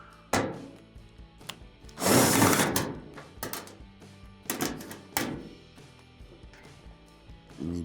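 Quarter-inch screws being backed out of the rear cover panel of an Amana dryer, with sharp metallic clicks and clatters, a few louder scraping bursts and rattles at close range, no talking.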